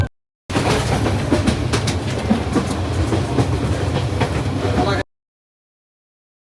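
Train rolling along the rails at night with continuous rumbling clickety-clack and steady wheel noise, loud and close from inside the carriage, running unbroken for several seconds before cutting to silence.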